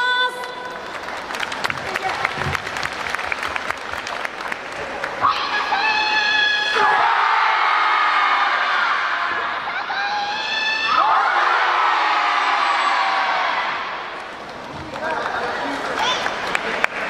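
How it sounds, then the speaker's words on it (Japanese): Audience at the Osaka Mecha Happy Festival 2022 applauding and cheering for a combined dance team, a broad wash of clapping and shouts rising in swells, with an announcer's voice heard before it. "大きな拍手をお願いします。"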